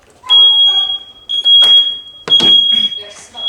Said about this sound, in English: The alarm may sound. The alarm is loud.